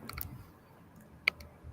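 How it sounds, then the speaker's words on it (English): Students tap on computer keyboards in a quiet room, a few scattered, light key clicks with one sharper click standing out, sparse and close, with no voices. "So students are typing"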